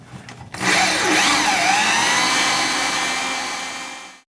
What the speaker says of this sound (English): This old drill has seen better days, but it still works pretty doggone good